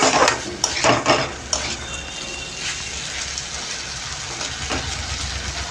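Rice for pulao stir-fried in a pan, opening with a few loud scrapes and clinks of a spatula against metal, then settling into a steady, gentle sizzle with occasional faint stirs.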